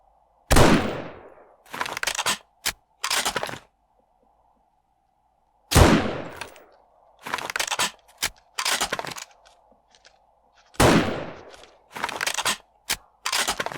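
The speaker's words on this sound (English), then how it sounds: "see if we can get a shot off on him" Gunfire in the survival game 7 Days to Die: three loud single shots, each trailed by a reload or cocking clatter, over a faint steady hum, with no voices.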